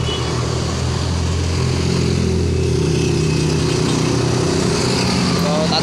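Street traffic rolls past while pedestrians wait to cross at a crossing, a continuous loud rumble of car and motorcycle engines close by, with voices talking over it.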